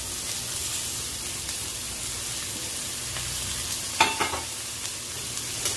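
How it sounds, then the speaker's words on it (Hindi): Finely chopped fenugreek leaves with turmeric powder fry in a pan over medium heat for methi paratha, giving a steady close hiss and sizzle. A few scraping stirs break through partway. No one speaks. "मीडियम आंच में इसको फ्राई करेंगे"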